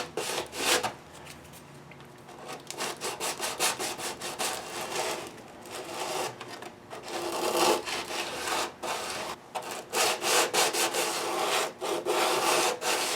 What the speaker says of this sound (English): So here's a close-up of that 120 grit in action.